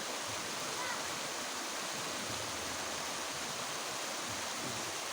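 Strong current of a mountain river rushing past a bathing spot, a dense, steady roar of churning water with no pauses.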